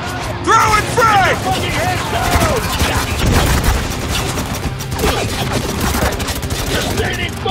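Heavy gunfire in the combat shooter Spec Ops: The Line, with dense bursts and scattered sharp shots crackling over one another while voices shout through the firefight.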